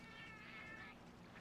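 A cat in the Monster Hunter Tri video game gives one drawn-out meow, very faint, lasting about a second and heard alone.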